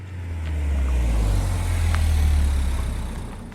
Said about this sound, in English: Medhat parked the car just steps away from the entrance of the palace